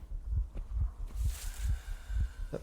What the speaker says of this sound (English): That pounding noise. My heartbeat.